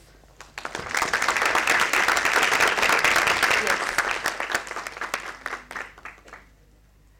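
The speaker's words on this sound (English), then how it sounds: "I want you to clap for yourself" A classroom of eleventh and twelfth grade students claps for themselves. The applause swells quickly, holds full and dense for a few seconds, then thins into scattered claps and fades, with a brief spoken word near the end.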